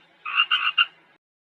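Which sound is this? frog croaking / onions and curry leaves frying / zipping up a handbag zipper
frog croaking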